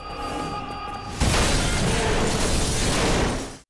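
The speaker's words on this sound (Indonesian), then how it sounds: "Kanma yang ternyata tengah memantau Jacob dari kejauhan, dia pun langsung mengaktifkan bom itu dan kemudian..." A bomb detonates in a film scene, a sudden loud broadband blast about a second in that roars and rumbles steadily for over two seconds before cutting off abruptly, preceded by tense tonal score.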